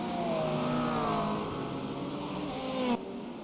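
Race cars including an Acura prototype lapping the Long Beach street circuit during an IMSA event, a dense continuous engine roar with rising and falling pitches from several cars, loud and steady, cutting off sharply near the end.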